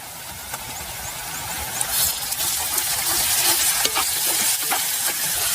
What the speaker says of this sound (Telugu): అల్లం మసాలా పచ్చివాసన పోయే వరకు బాగా వేయించుకోవాలి.